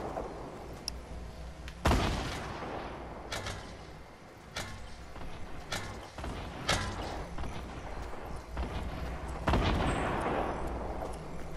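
Gunfire from Fortnite Battle Royale at Loot Lake: a series of sharp, widely spaced shots and mechanical clanks, each cracking out with a short tail over quiet background, no talk.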